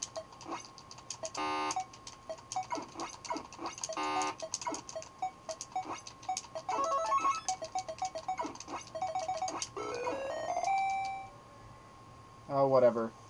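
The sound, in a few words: countdown timer beeping in a video game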